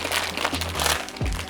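A plastic bag of German Haribo gummies is torn open by hand without scissors, giving short close crinkling and crunching.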